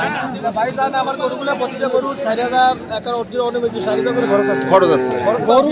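Cattle, bulls suited for farming, mooing at a busy livestock market: several close, drawn-out moos overlapping with each other amid crowd chatter and people talking.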